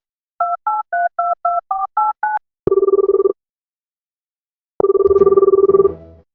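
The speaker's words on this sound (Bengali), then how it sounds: "এখন আবার ফোন দিল কেডা?" A telephone is dialed with a quick series of eight keypad tones, then two long, loud ring tones follow with a pause between them, heard in an animated comedy.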